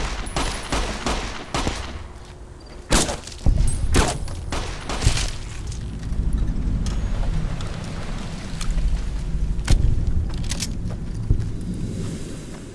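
Mini 14 rifle gunfire in Fallout New Vegas, a series of sharp, irregularly spaced shots cracking over a rumbling ambient game background, loud and close.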